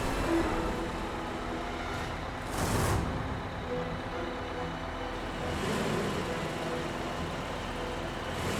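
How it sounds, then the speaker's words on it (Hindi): A bus engine gives a low, steady rumble, idling throughout at night nearby, with a brief hissing swell partway through and no one speaking. "ये तो वही बस की आवाज है।"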